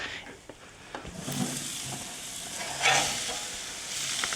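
A hamburger patty cooked three minutes a side on a grill gives off a steady hiss and sizzle, with a brief louder flare of sizzling midway and some faint scraping.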